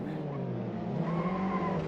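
A TCR touring car brakes late into the last corner, its tyres squealing in a sustained high whine over steady engine roar. A short continuous skid with no talk.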